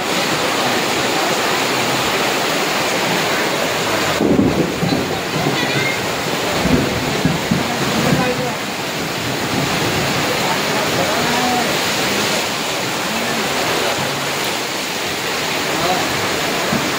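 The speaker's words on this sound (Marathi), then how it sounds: "तुम्ही बघू शकता पाऊस भरपूर पडायला लागला" Heavy rain pours down outdoors after dark, a loud, dense and steady roar that fills the whole stretch, with people talking at times beneath it.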